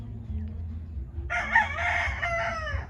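A rooster crows once, loud and close, its long strained call starting partway through over quiet background murmur and low rumble.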